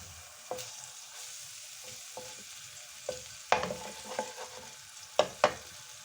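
Ghee heats in a pan for homemade popcorn, giving a low, quiet sizzle broken by several sharp clicks and scrapes of stirring, with two clustered bursts near the end.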